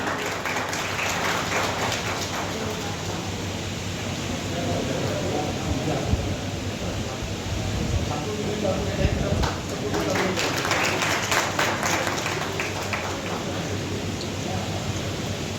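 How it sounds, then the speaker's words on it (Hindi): Audience applause at an Ambedkar Jayanti seminar as the main speaker is honoured, a steady rain-like wash of clapping that holds for the whole stretch with a voice speaking over it. "जोरदार तालियां।"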